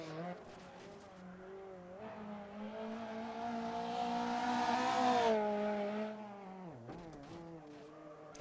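A rally car at Rally Pačejov, an Eastern European Rally Championship round, roars over a jump. The engine climbs and holds a loud, strained note, then falls away abruptly as tires scrub.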